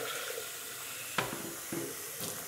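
Water runs steadily from a kitchen tap into a pot, filling it to a litre for instant noodles, a continuous close hiss with a few soft clunks of the pot or measuring cup.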